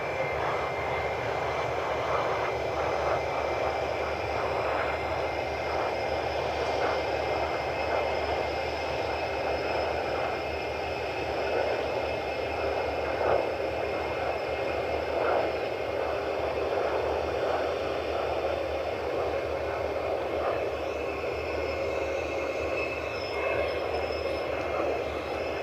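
A United airliner at Cleveland Hopkins airport, its engines roaring in a steady, loud, sustained wash of jet noise with no break.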